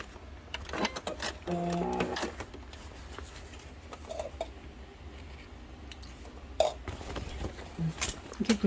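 A home sewing machine stitches the lining of a padded round zipper bag pouch made with Daiso thread and webbing strap, giving short mechanical whirring bursts separated by pauses and small handling clicks.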